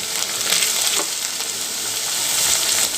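Ginger garlic paste sizzles and fries steadily in a hot pan as tomatoes go in, a dense, continuous crackle close by with faint stirring and no voices.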